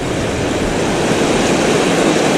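Waves break over rocks along a shoreline in a steady, loud wash of surf, a dense continuous roar without distinct breaks and with no voices.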